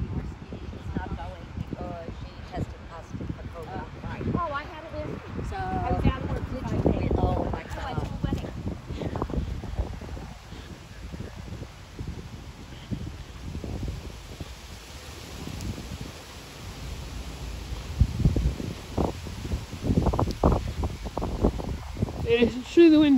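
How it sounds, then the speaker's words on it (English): Strong wind gusts buffet the microphone outdoors, rough low rumbling surges that rise and fall under people talking. "It is insanely windy today."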